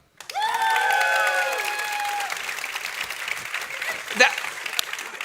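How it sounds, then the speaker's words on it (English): An audience at an E3 panel for Tom Clancy's The Division 2 breaks into loud applause that quickly settles into a steady, moderate clatter of clapping, with a voice speaking over it. "go ahead and clap"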